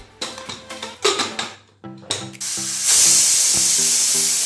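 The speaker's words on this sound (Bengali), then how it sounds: "এবার প্রেশার কুকারে একটা সিটি দিয়ে দেবো" Cookware clatters around a pressure cooker of chicken biryani with potatoes, then a loud, sustained hiss of escaping steam takes over and runs to the end.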